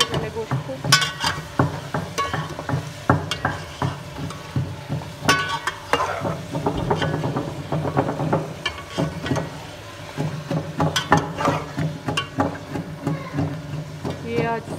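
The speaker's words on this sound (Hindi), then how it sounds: "इसको हम फ्राई करेंगे पहले गोश्त को" Gosht being fried in a pot, with a steady sizzle and repeated scraping stirs at close range, and a person speaking intermittently over the cooking.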